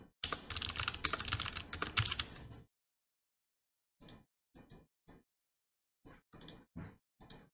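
Keys clatter on a computer keyboard in a quick dense burst of typing, then after a pause come scattered single and paired keystrokes, close and fairly quiet.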